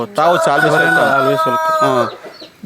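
Close, loud crowing of a fighting rooster in one long drawn-out call that rises and holds before trailing off, with faint background noise after.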